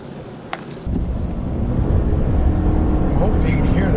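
A 2019 Chevy Silverado 1500 with a 2.7L turbocharged four-cylinder engine revs hard to 5,500 RPM, a steady, loud, low engine roar that builds after a quiet start and holds throughout.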